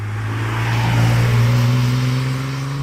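Naturally aspirated 3.7-litre V6 of a 2018 Nissan 370Z Nismo, a steady close engine drone with strong low harmonics that swells slightly mid-clip as revs rise, then eases, with no talk over it.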